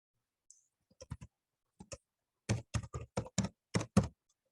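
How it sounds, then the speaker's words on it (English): Typing on a computer keyboard during Excel work, a few sparse key clicks followed by a quicker run of sharp close keystrokes, quiet room otherwise. "type in sales, type in director."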